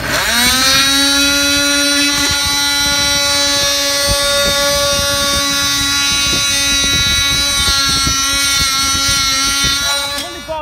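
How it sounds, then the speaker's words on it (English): A multi-tool drones steadily with a high, buzzing whine while scraping dried glue off a garden office roof, loud and close, with rough scraping texture underneath for the whole stretch. "I've took it off with the multi-tool."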